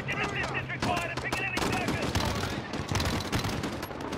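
Uzi submachine gun fire in the Call of Duty: Modern Warfare campaign, rapid close bursts of automatic shots with sharp cracks and echoes, mixed with other in-game gunfire and a player's voice talking over the action.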